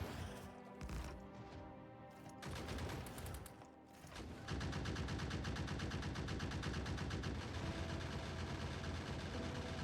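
Gun turrets in the video game Factorio fire at an enemy nest. The rapid mechanical gunfire starts unevenly, then settles into a continuous, dense rattle that carries on to the end.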